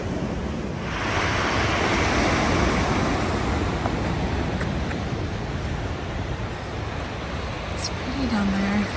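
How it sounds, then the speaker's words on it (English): Waves roll in steadily on the Strait of Juan de Fuca at a campground beach, a broad, continuous wash of surf with some wind noise, and a brief tonal call near the end. "I love the sound of the water."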